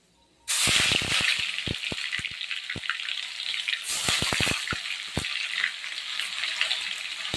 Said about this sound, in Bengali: এলাচ দারচিনি লবঙ্গ এবার এর মধ্যে পেঁয়াজ বাটাগুলোকে দিয়ে দেবো